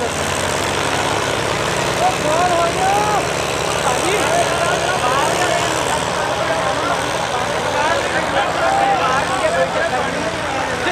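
A tractor engine drones steadily through a village rural sports fair pulling contest, a loud continuous idle-and-rev rumble with a crowd and an announcer's voice talking over it throughout.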